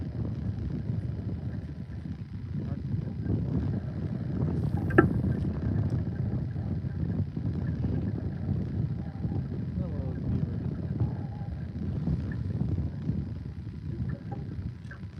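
Steady wind buffeting the microphone outdoors, a low continuous rumble with no pauses, plus a brief sharp knock near the middle.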